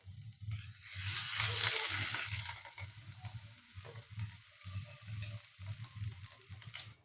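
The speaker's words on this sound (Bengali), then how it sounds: "বাটারটা গলে গেছে, এখন আমি দিয়ে দেব কাঁচা লঙ্কা কুচি আর আদা কুচি। হালকা একটু 2 মিনিট ভেজে নেব।" Chopped green chilli and ginger fry in melted butter in a pan, a close, continuous sizzle with rhythmic stirring scrapes and bubbling pulses throughout.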